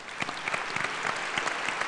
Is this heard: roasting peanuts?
no